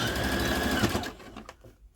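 Sewing machine back stitching fabric while upcycling a duster: a close, rapid mechanical whirring run that slows and stops, followed by a few faint clicks.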